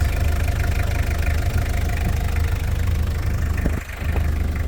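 A 1994 Toyota Hiace diesel van engine idles, a steady, close, low rumble with an even throb, briefly dipping once before settling back to the same idle.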